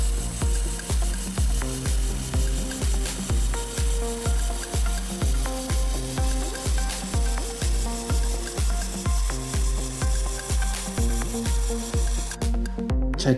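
A machine-guided welding gun runs a weld seam on its second pass, giving a steady, loud, fast rhythmic clatter of evenly spaced pulses that continues unbroken almost to the end.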